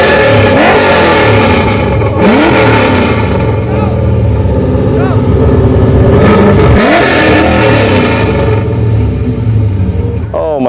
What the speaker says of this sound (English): you might be able to fire this baby up? Let us hear it.